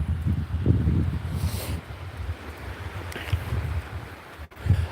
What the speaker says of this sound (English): it's the sound of the waves hitting the rocks